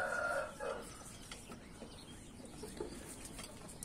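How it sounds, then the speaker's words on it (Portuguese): Black rooster and hens in a backyard flock, with a short loud clucking call right at the start, then quieter scattered clucks and rustling farmyard noise. "Um galo preto."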